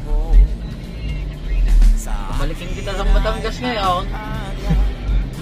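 Road traffic on Ayala Bridge in Manila, with car engines rumbling and vehicles passing nearby, heard under someone talking close by.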